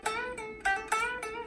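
A gold top Les Paul electric guitar plays a short high melody an octave up, with four clear picked notes ringing with sustained harmonics, alone and fairly close.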